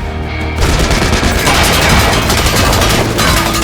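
A sudden loud burst of rapid gunfire with sharp impacts, dense and continuous for a few seconds after a brief quieter start.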